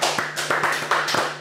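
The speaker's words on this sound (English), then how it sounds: "Let's have a round of applause" Short burst of hand clapping from a small group, sharp rhythmic claps in quick succession, close and loud, with no talking over it.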